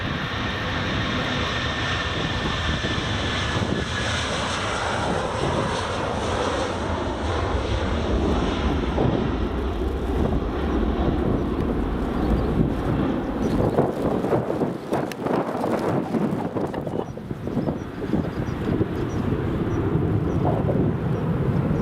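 A 24-year-old Bombardier Global Express business jet at Edinburgh Airport, runway 24, gives a steady, broad engine roar with wind noise, loud and sustained throughout.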